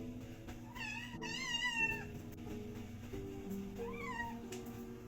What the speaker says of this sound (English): She had some quiet meows in there.